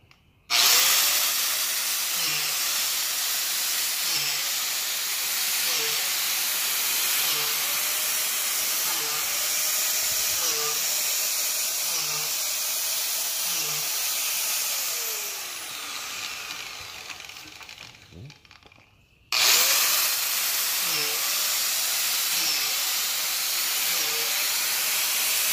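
A power drill bores holes in a log to take shiitake mushroom dowels, a loud sustained whine and hiss. It runs continuously, sags and cuts off briefly near the end, then starts again.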